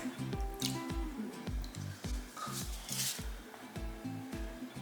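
Fragrance oil being stirred into thick cold process pumpkin spice soap batter, giving soft, wet squishing and dripping sounds in a steady repeating rhythm, close up, with no talking.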